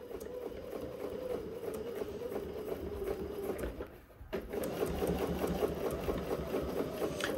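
Domestic sewing machine stitching a zipper seam on a garment front, a steady close mechanical whir running almost throughout, with a brief pause near the middle before it resumes at a slightly fuller level.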